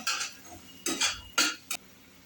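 A utensil scrapes and clinks against a pan while jackfruit vegetable is stirred, four short bursts of stirring spaced out by quiet gaps, close and without talk.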